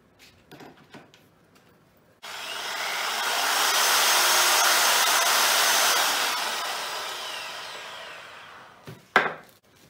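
An EDON budget reciprocating saw runs alone for several seconds after a few clicks, a steady buzzing whine that swells and fades, ending with a sharp clunk.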